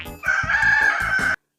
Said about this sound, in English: A rooster makes a cock-a-doodle-doo sound.